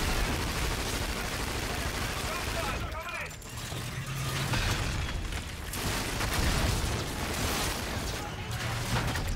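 Dense, continuous gunfire and explosions from the Call of Duty: Infinite Warfare video game, loud and sustained with overlapping bursts, with voices speaking over the din.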